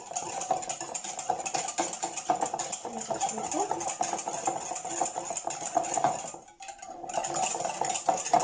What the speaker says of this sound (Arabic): انا غنخلط ليه بيدي